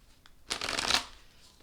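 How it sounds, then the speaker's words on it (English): A deck of tarot cards is shuffled in one brief, close riffle that rises and quickly fades in a quiet room. There is no talk. "I'm gonna cut the cards, and we'll get going here."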